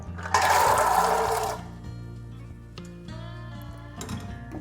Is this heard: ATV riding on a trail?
no